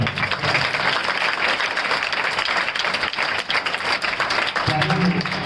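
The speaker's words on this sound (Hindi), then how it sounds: "जोरदार ताली बजाओ।" Students at Murarilal Global School clap loudly as a group in a dense, continuous burst. A voice briefly cuts in near the end.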